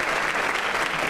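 Steady, dense applause fills a high school graduation ceremony, a large crowd clapping continuously at an even level with no voices standing out.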